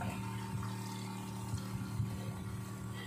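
Steady stream of drinking water running from a C-5 Plus RO water purifier during a quality-control flow test, a continuous even rush with a low pump hum underneath, close and unbroken throughout.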